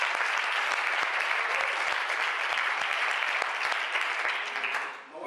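A congregation applauds during a church service, a steady, dense wash of clapping that holds for several seconds before tapering off at the end.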